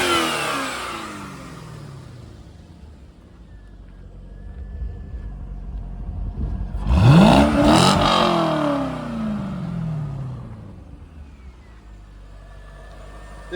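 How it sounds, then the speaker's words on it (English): A 2001 C5 Corvette LS1 V8 idles, then is revved sharply once, the close, loud roar climbing and falling back to a lumpy idle, alone without voices. "Go ahead and rev it up."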